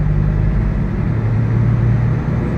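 Dump truck engine running loud and steady, a deep low rumble with strong low harmonics holding throughout as the accelerator is pressed to build revs for a gear change.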